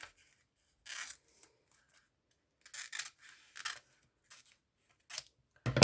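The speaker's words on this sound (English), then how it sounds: "some people have good scissors that can run them right up down through there" Scissors cut through a sheet of paper in short bursts, several close crisp snipping and slicing strokes separated by quiet pauses.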